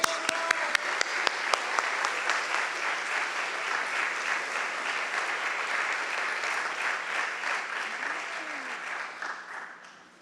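An audience applauds as two authors walk onto the stage at a morning book event. Dense, steady clapping fills the room, loud and close, with a few sharp claps at the start before it gradually thins and fades toward the end.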